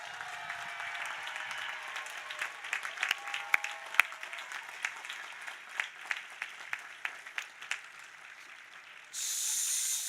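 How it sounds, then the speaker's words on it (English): Graduates at a spring 2023 commencement ceremony applaud their families and friends; thin, scattered claps sound distant and reverberant in a large hall, sharpening into separate single claps before a hiss cuts in at the end. "Graduates, how about a round of applause for your families and your friends?"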